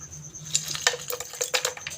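Ice cubes drop into a jamun milkshake mixture, giving a rapid scatter of light clinks and knocks that clatter irregularly for a couple of seconds over a low background hum.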